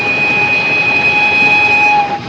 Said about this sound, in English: Just listen to that whistle.